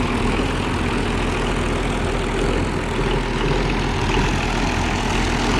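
An Oliver tractor engine idling in a hay field, a steady low rumble with even, unchanging loudness throughout and no talking.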